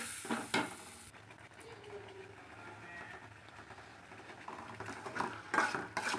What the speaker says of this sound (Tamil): மிளகாப்பொடி எண்ணெய் விட்டு வதக்கணும்